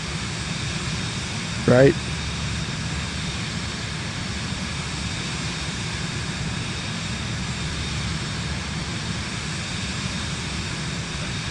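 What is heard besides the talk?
Boeing jet aircraft engine, video game Microsoft Flight Simulator 2024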